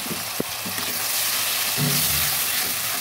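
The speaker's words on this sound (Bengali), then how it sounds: "আদাটা কিছু ভাজা হয়ে আসছে, এবার দিয়ে দেবো পেঁয়াজ পেস্ট।" Ginger and onion paste frying in hot oil in a pan, giving a steady close sizzle with a few sharp spatula scrapes and stirring clicks throughout.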